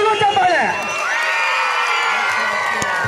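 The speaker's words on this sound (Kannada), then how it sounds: "ಮತ್ತು ಸಹ ಶಿಕ್ಷಕರಿಗೆ ಎಲ್ಲರಿಗೂ ಧನ್ಯವಾದಗಳೊಂದಿಗೆ ಜೋರು ಚಪ್ಪಾಳೆ" Crowd at a school honouring ceremony cheering and whooping for the teachers, children's shouts rising over a loud, sustained wash of noise with scattered claps.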